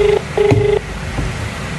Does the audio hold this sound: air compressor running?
no